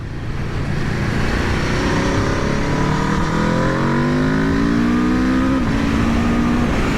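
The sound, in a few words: Aprilia RSV4 1100 Factory motorcycle accelerating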